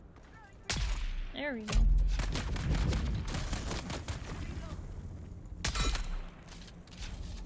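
Gunfire crackles in the video game Dune Awakening, with sharp bursts at the start and again near the end over a busy, noisy game mix, and a voice speaking briefly.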